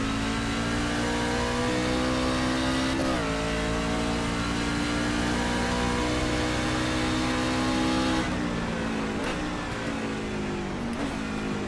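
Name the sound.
race car engine revving in a racing video game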